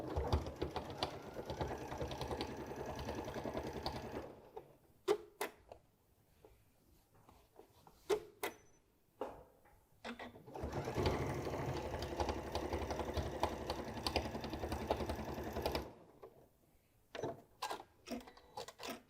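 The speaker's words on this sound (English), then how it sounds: "I'm going to run a stitch across the top, which will be the top of this back, and then run a stitch across the bottom" Sewing machine stitching across the top of a hem, with two steady, loud bursts of motor whir separated by quieter handling clicks and taps.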